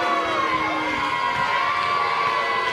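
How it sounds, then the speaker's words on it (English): A wrestling crowd at a professional match roars steadily, a dense sustained wash of many voices booing and shouting that fills the whole moment without a break. "Whole lot of boos going on."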